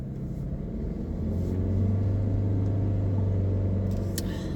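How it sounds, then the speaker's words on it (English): Car engine idling and running, a low continuous rumble with a steady hum that swells slightly partway through, heard from inside the vehicle. "My car sounds good."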